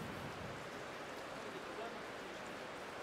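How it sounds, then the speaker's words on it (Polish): Heavy rain drumming on the inflatable dome over an indoor sports hall, a continuous dense hiss of drops with no clear break and no audible talk. "Mogą nawet Państwo usłyszeć co jakiś czas, jak y, krople deszczu uderzają o, o balon, w którym się w tej chwili znajdujemy."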